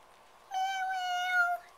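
A person's voice imitates a cat's meow with one drawn-out, tonal call lasting about a second, close and clear against a quiet indoor background.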